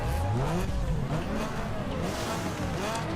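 Race car engine in Need for Speed Underground 2 during a twisty circuit race, loud and continuous with rising and falling revs as the car accelerates and shifts, with a brief tire squeal and no talking.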